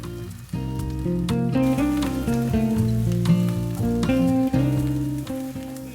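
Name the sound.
sautéing vegetables in a pan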